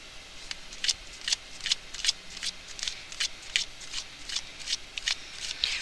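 Tarot cards shuffled by hand, a series of crisp riffling bursts repeating at a steady pace, close and clear with no talking.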